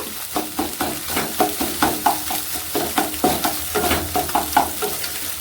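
Eggs scrambled and fried bhujia-style in a pan for egg masala pasta, with a steady sizzle broken by regular scraping stirs of a spatula, close and fairly loud with no talk.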